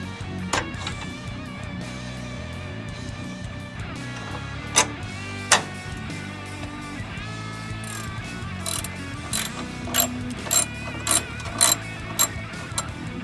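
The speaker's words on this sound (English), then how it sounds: "then we're going to get the bolts loose." A ratchet loosening bolts on a car's tail light housing, giving runs of close metallic clicking over a steady mechanical hum, with several sharper clicks standing out near the end.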